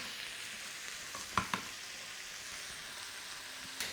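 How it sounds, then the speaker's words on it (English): Minced lamb sizzles steadily in a pan with a soft, even frying hiss, broken by a few brief scrapes and knocks as it is broken up into small chunks. "we want to sort of break it up in the pan so it goes into sort of little chunks"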